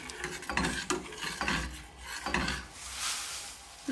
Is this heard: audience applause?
no